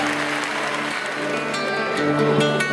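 Audience at a charity gala applauding a singer, steady sustained clapping from a crowd filling the room, fairly loud and even throughout.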